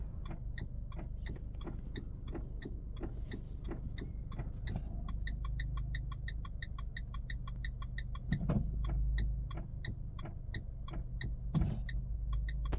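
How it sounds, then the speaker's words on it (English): The turn indicator relay on a Renault Captur clicks in a steady, even rhythm, close by, over a constant low idling engine hum with occasional louder thumps. "As you can see, the indicator works perfectly fine until you step on the brake pedal."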